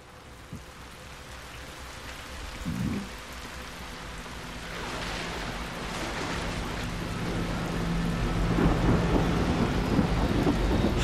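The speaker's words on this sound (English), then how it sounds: "How is it raining here?" Rain and thunder in the Transformers War for Cybertron video game: a deep rumble of thunder rolls in early, then steady rainfall swells and grows louder toward the end, with distant low booms underneath.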